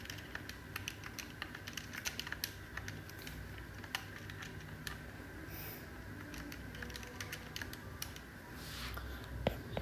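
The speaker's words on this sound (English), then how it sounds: "just type it in your calculator" Calculator keys pressed one after another while working out the sum of a geometric series, giving a quick run of light, faint plastic clicks over a soft room hum with no talking.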